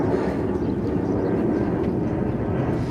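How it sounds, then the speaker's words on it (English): A steady, loud jet engine roar from an airplane passing overhead in Ciudad Jardín, Palma de Mallorca, a continuous low rumble with no voices. "A little bit noisy with the plane traffic"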